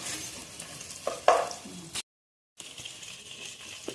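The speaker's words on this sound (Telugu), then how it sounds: "కొంచెం సాల్ట్ వేస్తే మంచిగా ఫ్రై అవుతాయండి." Vegetables frying in oil with salt for a veg biryani, a soft sizzle with stirring scrapes and a brief clatter, then a short silent gap before the frying resumes.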